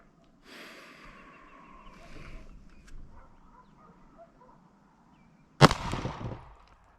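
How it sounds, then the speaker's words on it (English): One sudden, loud gunshot cracks close by from a firearm fired at an outdoor shooting range at 15 yards, with a brief ringing tail after it and only quiet background rustle beforehand. "let's see where we're at with our first shots here at 15 yards"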